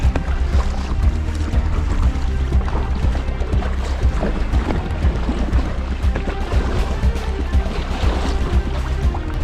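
A kayak paddled on open water in wind, with steady splashing and lapping close by that continues without a break and without speech.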